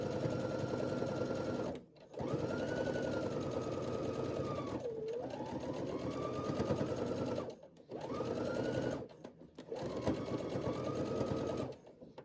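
A Baby Lock sewing machine stitches around the thumb of a glove made from an upcycled knit sweater, running steadily in close bursts with brief pauses where the needle stays down and the fabric pivots.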